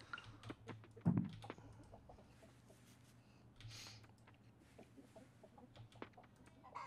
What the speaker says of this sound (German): Ich habe das gleiche Huhn nochmal gestreichelt.